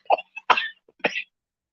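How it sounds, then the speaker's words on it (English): A person on bed rest coughs in a short burst of three dry, close coughs, with silence between and after. "Don't worry, I'm not gonna cough you to death."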